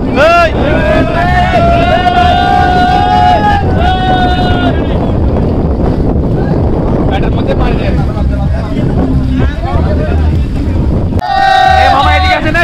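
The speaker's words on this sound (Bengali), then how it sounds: "পিছনে নৌকা।" A boat on the haor near the Mithamoin haor road in Kishoreganj, its steady engine drone running throughout beneath loud, overlapping voices of a crowd calling out, with a few rising tonal whines cutting through near the start and end.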